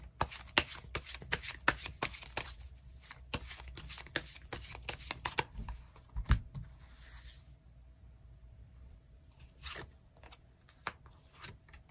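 Tarot cards shuffled by hand close up, a rapid run of crisp riffling snaps and flutters, then a short pause and a few scattered taps and slides.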